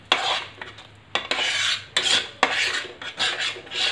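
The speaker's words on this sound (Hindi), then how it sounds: "सब्जियों को सॉस में इस तरीके से मिला के" A spoon stirs mixed vegetables into a white sauce for Indian-style pasta in a pan, giving several close scraping, rasping strokes in uneven bursts, with no talking.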